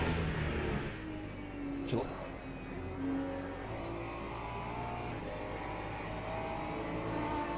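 Race cars, including an LMP prototype, pass in the Le Mans Ultimate racing game, with steady engine drone and tonal whine at a fairly constant level, a brief whoosh near the start, and a voice talking over it.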